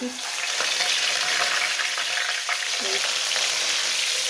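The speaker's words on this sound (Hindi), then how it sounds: "तेल गरम हो गया, तो अब डाल देंगे ये फिश" Fish sizzles steadily as it fries in hot oil in a pan, a dense, close crackling hiss that continues without a break.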